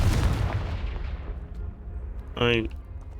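A Confringo blasting spell in a Hogwarts video game bursts with a loud, rumbling boom that slowly fades over a second or so, followed later by a brief bright tonal flourish.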